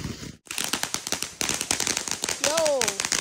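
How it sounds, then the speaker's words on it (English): Firework bangs and crackles explode in dense rapid bursts during an Independence Day night, loud and close, with a whistling rising-falling tone near the end and people's voices mixed in. "This is a cool firework."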